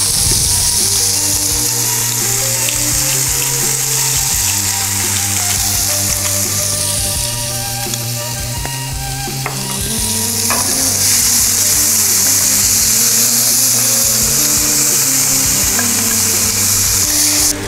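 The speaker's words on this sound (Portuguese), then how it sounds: "Vai fritando aos poucos." Mandioquinha gnocchi fry in olive oil with a loud, continuous sizzle and crackle, punctuated by occasional stirring clinks and scrapes in the pan, close and without talk.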